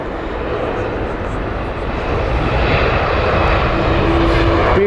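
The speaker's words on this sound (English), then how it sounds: "Swiss here, beautiful Swiss. Airbus A220-300" A Swiss Airbus A220-300 lands at Heathrow Airport, its engines giving a loud, steady, broadband roar heard from nearby that swells slightly toward the end.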